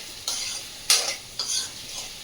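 Food is sautéed and stirred in a pan on a home stove: a soft sizzle underneath with several distinct scraping strokes of the spoon, loudest around the middle, close and without any talk.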